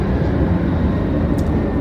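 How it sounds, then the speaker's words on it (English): A jet aircraft passes overhead, producing a loud, steady broadband roar with no breaks. "we're just going to have to deal with jet noise"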